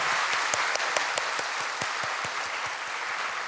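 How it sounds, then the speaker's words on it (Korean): A church congregation claps in encouragement during a Sunday worship service, a steady crowd applause with a few sharper individual claps standing out near the front. "다 같이 박수로 격려하겠습니다."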